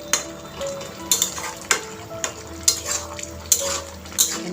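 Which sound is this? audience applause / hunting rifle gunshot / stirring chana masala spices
stirring chana masala spices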